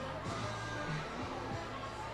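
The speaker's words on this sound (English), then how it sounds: "the crowd is still buzzing here off the 2 back-to-back long balls" A baseball stadium crowd at a minor league game, Reading Fightin Phils against the Binghamton Rumble Ponies, hums with a steady, distant murmur of many voices, with no single sound standing out.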